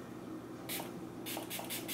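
Makeup setting spray misted onto a damp sponge: one short hiss of spray, then a quick run of three or four close, breathy spritzes in fast succession, with no talking.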